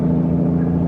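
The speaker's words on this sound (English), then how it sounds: "So the truck's decided to go through with its air brakes on." A truck with its air brakes on passing along a road about 300 meters away, heard as a steady low, distant rumble.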